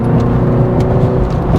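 A base BMW 330i slows on the road, its engine and tyre rumble a steady, close drone inside the cabin over a brief stretch with no talk.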